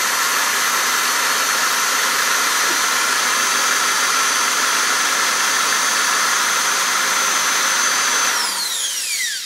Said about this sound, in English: The ventilator is working.